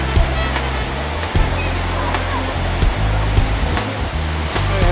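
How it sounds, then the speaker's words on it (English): Surf breaking on a Sydney surfing beach, a continuous close roar of rushing water with repeated crashing bursts and low rumbling swells. "But the waves are lovely."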